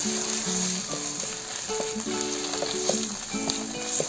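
Ginger garlic paste fries with onions in a pan for vegetable pulao, a soft continuous sizzle with light stirring and scraping noises, close and fairly quiet, no talking.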